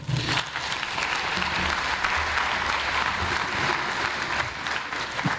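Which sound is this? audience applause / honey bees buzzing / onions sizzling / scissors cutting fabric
audience applause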